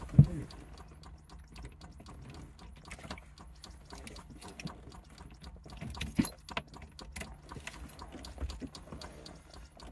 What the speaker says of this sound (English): Get the keys down from where they're hanging.